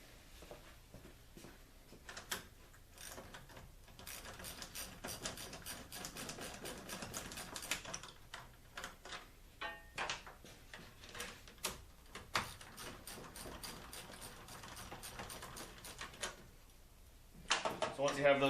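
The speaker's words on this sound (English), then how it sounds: "Next step is going to be to undo the radiator shroud. You're going to have two bolts here" Ratcheting and wrenching on the 8mm bolts of a radiator shroud on a 1980–96 Ford F-Series with the 4.9-liter engine: rapid close metallic clicks and taps in bursts, with short pauses between runs.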